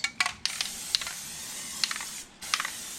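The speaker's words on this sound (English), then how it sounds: "Gave this one a good spray too." Short hissing bursts of an aerosol spray onto a water pump gasket of a 1985 GMC Sierra C2500 305 V8, several quick spurts separated by brief pauses, close and fairly quiet.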